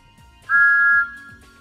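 Thomas the Tank Engine's steam whistle, an alternate take, sounds once as a clear, sustained high tone lasting about half a second over a low, rhythmic background.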